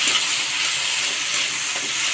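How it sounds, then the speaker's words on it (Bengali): Small local shrimp frying in a little oil in a wok, a steady close hiss of sizzling that holds evenly throughout without a break. "চিংড়ি মাছটা একদম অল্প ভেজে নিই"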